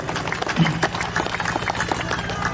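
An audience at a cultural talk in Natuna claps together, a dense and fairly close patter of hands with a voice or two rising briefly underneath.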